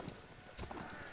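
Horse hooves clop in the Mount & Blade: Warband video game, a brief, faint run of a few muffled thuds set within dense game noise.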